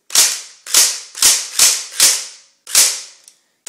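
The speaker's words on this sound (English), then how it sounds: "This is semi-auto." Semi-automatic shots from a Crosman TAC R71 airsoft gun: six sharp, loud cracks spaced about half a second apart, each decaying quickly, followed by a faint click.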